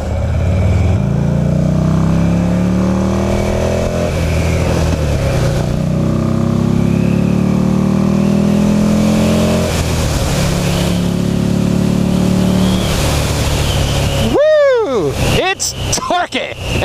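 A Buell XB9S V-twin motorcycle rides through traffic, its engine droning and rising and falling with throttle changes under steady wind rush, while a rider talks over it; sharp chirping sounds break in near the end.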